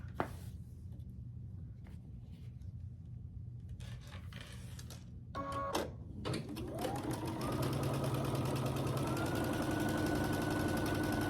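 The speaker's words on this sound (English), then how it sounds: "I'm just sewing the sashing and the blocks together" A sewing machine stitches quilt sashing and signature blocks together into rows, its motor whirring steadily and growing louder and more continuous toward the end, with brief mechanical clicks earlier and no talking.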